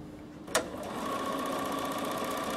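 Bernina 7 Series sewing machine on its buttonhole setting with an ordinary presser foot fitted, starting with a sharp click and then running at a continuous steady hum.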